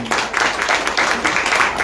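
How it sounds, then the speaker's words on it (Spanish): Church congregation applauding during a Christian sermon, a brisk, dense burst of clapping that swells in uneven waves, close and loud without talk over it. "Dele un aplauso a Jesucristo."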